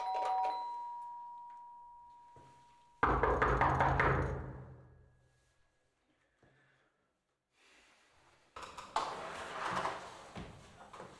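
Knocking on the front door of a house, a few sharp raps standing out over a noisy indoor background with electronic tones, followed by quieter rustling and more muffled activity.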